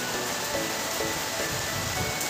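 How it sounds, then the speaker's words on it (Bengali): Steady morning rain falling outside, a soft even patter and hiss of drops on surfaces, continuous and fairly faint with no voices. "আজকে একটু ভোরবেলার থেকে বৃষ্টিটা দিয়েছে, ওয়েদারটা একটু নরম করেছে।"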